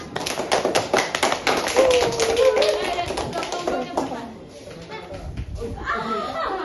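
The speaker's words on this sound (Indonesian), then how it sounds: "Tepuk tangan." Classroom applause during a micro-teaching session, a burst of many hands clapping quickly and densely for about four seconds, then fading out as voices carry on.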